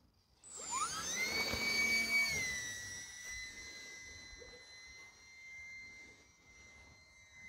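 Small E-flite UMX Turbo Timber RC plane flying at night in fog, its electric motor giving a high whining whir that sweeps down in pitch as it passes close, then settles into a steady distant whine.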